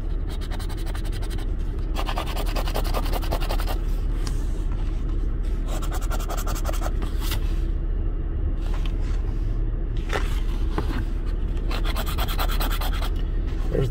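Texas Lottery scratch-off tickets being scratched, with close, repeated bursts of rough rubbing and scraping coming in rhythmic strokes over a steady background rumble.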